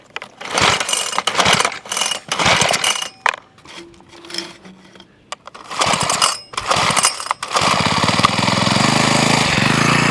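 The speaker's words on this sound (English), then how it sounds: "Pull 3 to 5 times to start engine." A small engine's starter cord is pulled in a series of quick ratcheting yanks, each with a whirring mechanical rattle, broken by short pauses before a steady loud mechanical noise takes over near the end.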